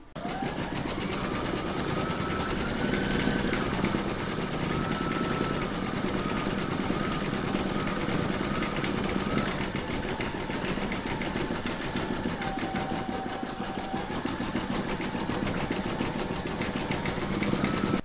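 An embroidery machine stitches a section of an in-the-hoop mandala placemat, running as a steady, close mechanical whir with rapid needle chatter that holds on throughout, shifting pitch slightly a few times.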